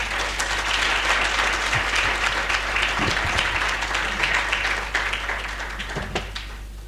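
A conference audience on rural development applauds after a speech, with sustained, dense clapping that is loud and close, plus a few knocks and thumps, gradually easing toward the end.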